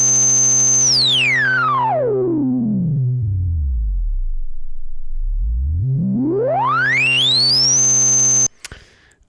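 A Polyend Dreadbox Medusa synthesizer's filter self-oscillates, a loud pure whistling tone sweeping smoothly down to a deep rumble and back up high over a sustained drone, then cutting off abruptly.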